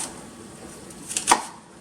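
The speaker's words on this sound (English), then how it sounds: "you're just chopping them up" Apples being chopped with a knife, two quick faint cuts close by near the end after a quiet stretch.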